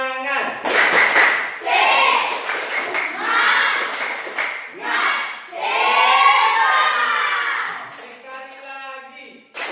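A group does a rhythmic spirit clap (tepuk semangat) during a performance assessment, bursts of clapping and chanting voices alternating in patterned phrases close by, with a brief pause near the end.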